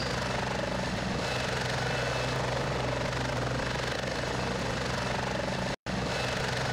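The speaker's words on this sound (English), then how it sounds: "One annoying thing that I wish to change soon is the sound of the helicopters." Helicopter rotor and engine noise from the Heliborne video game, a loud steady thumping drone filling the clip with a brief cut near the end.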